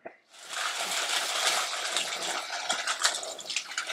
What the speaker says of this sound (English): Right, and give these a rinse.